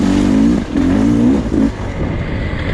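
A Beta 300 RR dirt bike engine revs hard in short bursts: two sustained high-pitched blats, then a brief third burst, before dropping to a lower idle, loud and close.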